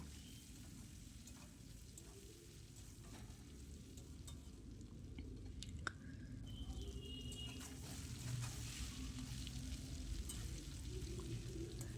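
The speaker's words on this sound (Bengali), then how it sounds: "প্রথমেই আমি পনিরের টুকরোগুলোকে একটু ভেজে নেব" Paneer pieces frying in mustard oil and ghee, a faint, even sizzle that holds steady throughout, with a few small ticks and no voices.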